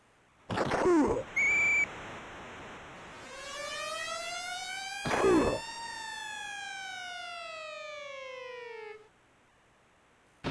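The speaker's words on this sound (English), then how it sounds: "The ambulance that has no problem mowing over players to reach an injured player." An ambulance siren from the Sega Genesis John Madden NFL Football game, a synthesized wail rising and then slowly falling in pitch, with loud chirping electronic game bleeps at the start and again midway.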